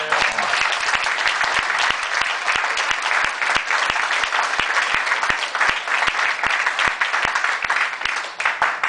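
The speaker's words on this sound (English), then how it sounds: "So I say give them another round of applause." An audience breaks into sustained applause at a speech, dense steady clapping from many hands filling the room at full volume with no pause.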